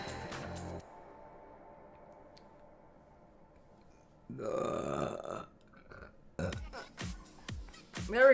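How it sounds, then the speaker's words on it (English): A big burp rings out in two loud bursts separated by quiet stretches, the second a series of short gulping pulses that rise at the end. "That was a big burp."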